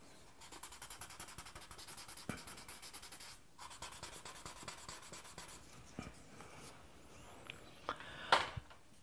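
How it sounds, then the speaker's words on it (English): An eraser rubs out part of a pencil drawing of Jesus on paper, making faint, close, rhythmic scratchy strokes that repeat steadily with brief pauses. "I am erasing this because it's too far forward."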